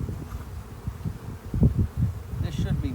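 Honey bees buzz steadily at an open hive during a frame inspection one month after a package install, a close, continuous drone with occasional rustling and handling bumps.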